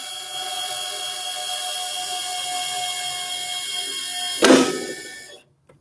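A molded-case circuit breaker is closed remotely: a steady mechanical whine builds, then a sharp clunk lands, and a brief rattle follows before everything falls silent.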